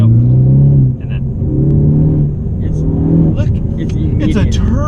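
Ford Focus ST with a turbocharged engine and Mountune Stage 1 upgrade revving in steady, droning surges with deep rumble, heard close from inside the car while people talk over it.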